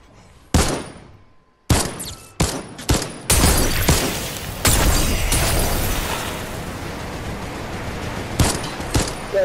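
Minigun fire in the video game Fortnite: several sharp, loud bursts open the sequence, then a sustained rattling stream of shots fades slowly, and a few more blasts close it, with no voices.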